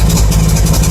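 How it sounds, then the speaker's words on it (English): A boat or truck engine idling, a steady low rumbling drone with even throb, loud and close, heard alone for a brief moment. "The engine's running."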